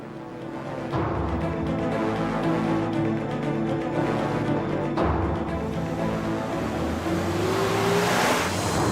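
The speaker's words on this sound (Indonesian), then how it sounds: "Itu mobil Pak Suta kan?" A car drives past with a steady engine drone and road rumble, fairly loud throughout, with a rising engine pitch toward the end.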